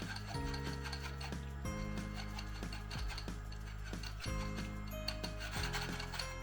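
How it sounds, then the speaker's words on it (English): Peach pulp pressed through a metal sieve with the back of a spoon while making a peach Bellini, producing repeated close scraping, rasping strokes in an uneven rhythm, steady and fairly loud with no talk. "I am going to push this through with the back of my spoon"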